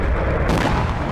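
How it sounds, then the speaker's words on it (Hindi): Explosions from attacks on cities in northern Israel, heard as a continuous loud, dense boom and rumble that surges midway through, with no voices. "पहला धमाका, दूसरा धमाका, तीसरा धमाका,"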